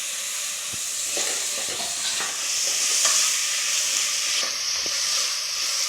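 Ground tomato paste frying in a pan for mushroom biryani makes a steady, close hiss and sizzle, with a few light stirring scrapes and no talking.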